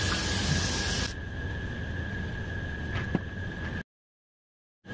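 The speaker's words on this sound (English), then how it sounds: "I'm gonna take some brake cleaner here" Brake cleaner sprays onto a part of a 6.0L LS engine being mated to a Muncie SM465 manual transmission: a sharp, close hiss for about a second, then a fainter hissing that cuts to silence.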